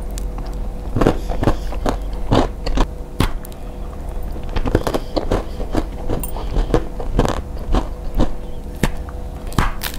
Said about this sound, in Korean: 요거까지 한번 먹어볼게요. 친한 언니가 만들어준 커피 르벤 쿠키.